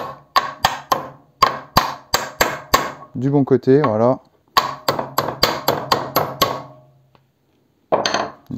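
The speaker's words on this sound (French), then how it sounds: "on va l'aider en lui mettant quelques petits coups de marteau" Light hammer taps seat a rubber suspension bushing into the upper wishbone of a Renault 4L: quick bursts of sharp, close metallic knocks, a brief spoken phrase mid-way, then another run of evenly spaced taps and a final knock.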